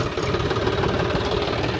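A tractor engine idles and runs steadily in a wet rainy-season farm field, a close, loud, continuous low rumble with a knocking throb and no voices over it.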